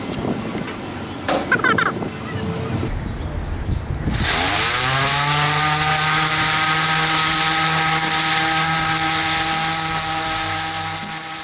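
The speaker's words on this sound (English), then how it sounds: "So I've been grinding at this one section for a pretty long time now" A power grinder with a 50-grit disc grinds a microcement coat over a laminate countertop, spinning up to a loud, steady, droning whine that holds for several seconds after a few bumps and clatters.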